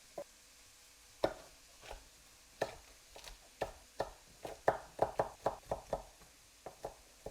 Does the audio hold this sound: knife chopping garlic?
yes